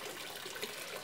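A steady stream pours from a recycled PET bottle watering can onto a dry snake cactus, a short even rushing splash close by, with no one speaking.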